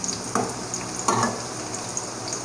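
Paneer pieces shallow-frying in a pan for sweet poppy-seed paneer posto, a soft continuous sizzle broken by two louder clinks and scrapes of a spatula turning the pieces, quiet and close, no voices.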